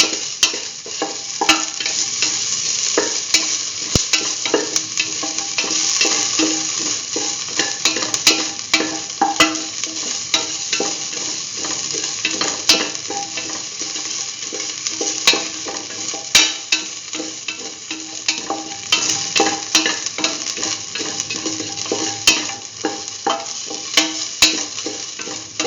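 Beef seasoned with salt and ginger is stirred in a hot pan, giving a continuous bright sizzle broken by frequent scraping and clinking of the utensil against the pan, steady and close throughout.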